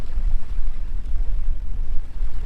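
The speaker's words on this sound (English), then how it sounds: "The wind's quite picked up a bit." Strong wind gusting over an open riverside at Perch Rock on the River Mersey during a fishing session, a loud continuous low buffeting roar with steady wind noise on the microphone and no talk.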